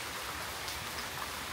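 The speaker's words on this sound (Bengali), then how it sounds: "এখানে বসে বসে বৃষ্টি দেখো" Steady November rain falls in a continuous even hiss, with raindrops pattering on surfaces close by and no voices.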